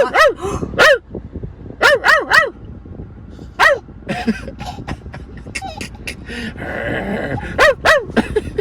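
A young child imitates a dog barking, giving short voiced yaps in quick bursts of two or three, close to the microphone, with household background noise between them.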